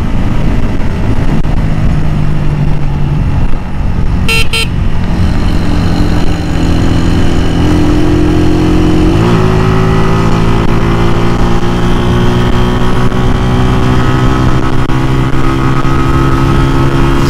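A Honda CB150F and a Yamaha YBZ motorcycle ride along together, their engines droning loudly and steadily close by, with the pitch rising partway through as they pick up speed under rushing wind.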